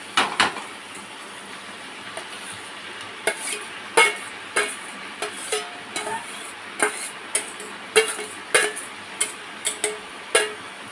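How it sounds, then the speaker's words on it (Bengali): Ash gourd stirred in a pan, a steady run of scraping and knocking utensil strokes against the metal, each stroke distinct and close, over a faint sizzle. "এবার চাল কুমড়োটা দিয়ে দেবো"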